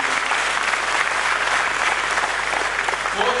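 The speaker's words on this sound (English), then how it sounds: "a big round of applause for the entire panel" Audience applause for a panel of economists after a panel discussion, a loud continuous clatter of many hands clapping with no break.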